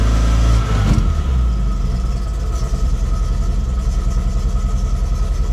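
An MGB GT engine runs steadily with the clutch pedal held in, a close, even mid-pitched idle that holds without stalling after a brief louder moment at the start.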